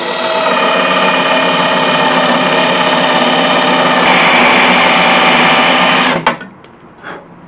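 A power drill with a 7 mm bit cuts out spot welds on the front end of a Renault Clio 2, a loud steady whine that ends abruptly, followed by a short clatter and quiet.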